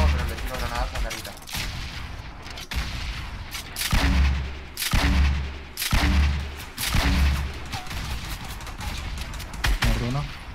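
Grenades and gunfire in a Fortnite match, several heavy booming blasts spaced a second or so apart over a busy layer of shooting, loud and close, with a voice talking in between.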